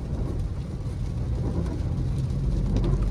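A 2016-20 Tata Tiago XZ hatchback drives slowly through a U-turn, heard from inside the cabin as a steady low engine and road rumble with a faint whir.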